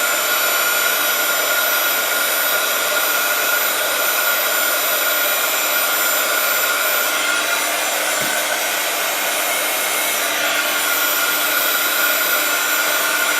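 A handheld heat tool blows steadily and loudly to melt and set embossing powder on a card, a continuous whooshing fan-and-heater drone with no pauses and no talk.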